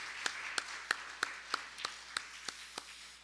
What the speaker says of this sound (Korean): 그 하나님 앞에 우리 감사의 박수를 한번 올려드리십시오